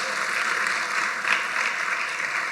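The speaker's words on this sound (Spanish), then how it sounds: "démosle un fuerte aplauso a las mujeres que estuvieron ayer en su taller" An audience at a church service applauds the women from the previous day's women's workshop, a dense, even wash of clapping held steady for a few seconds without speech.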